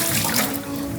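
Brine pours off raw chicken breast cutlets in a brief, close, splashing stream of liquid, steady then tapering slightly, with no talk.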